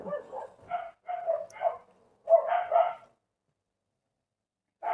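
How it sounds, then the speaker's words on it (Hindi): Several dogs bark in short bursts, loud and fairly close, in clusters over the first three seconds before falling silent, with one more bark at the very end. "कुत्तों ने तो हालत खराब कर दी है।"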